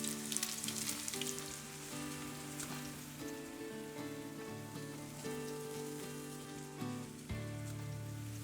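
Potato latkes fry in a hot pan, turned to cook on the second side, giving a steady, close crackling sizzle that runs unbroken throughout.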